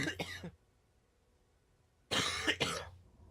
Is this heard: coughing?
yes